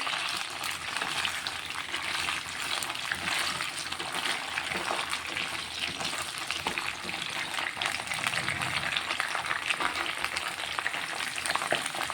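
Brinjals fry in a small amount of oil with a dense, even sizzle that runs unbroken and close for the whole stretch, steady in loudness without speech.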